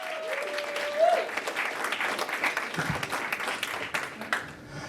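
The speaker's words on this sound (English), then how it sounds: "I demand you clap your hands for Jeremiah Hughes now!" An audience at a comedy show bursts into applause for a comedian, with dense clapping and a few cheers. A voice is heard briefly at the start.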